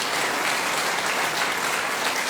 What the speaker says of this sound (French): Applaudissez donc pour vous.